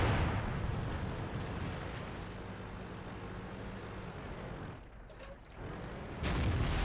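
A heavy tank gun shot in World of Tanks, a deep booming blast with rumbling engine and battle noise around it, followed by a brief lull and another loud burst at the end.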